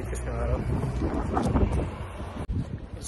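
Steady wind gusts buffet the microphone outdoors in downtown Moose Jaw, Saskatchewan, a dense continuous rumble and hiss with no pauses that masks any quieter background sound.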